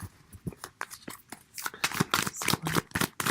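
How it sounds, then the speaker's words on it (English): Tarot cards being shuffled close up, a run of soft papery riffles and taps that grows busier and louder toward the end, with no talking. "enjoy the shuffling of the cards."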